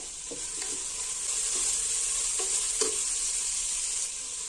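Mushroom biryani masala with fresh mint and coriander sizzles steadily in a pan, with a few soft stirring clinks and scrapes scattered through the continuous close frying hiss.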